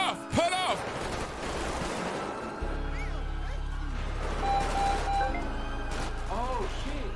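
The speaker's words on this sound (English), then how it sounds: "Why y'all keep shooting?" Gunfire in a FiveM GTA V roleplay scene, several sharp shots scattered among shouting voices and a steady low engine-like drone, moderately loud and partly buried under talk.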